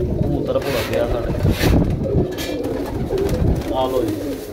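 Flying pigeons in Faisalabad coo in soft, repeated low murmurs close by, with faint background voices and light wind noise mixed in.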